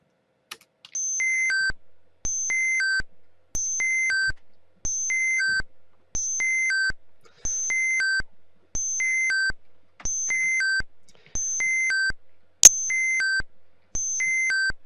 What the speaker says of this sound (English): Please pardon the screechy noise.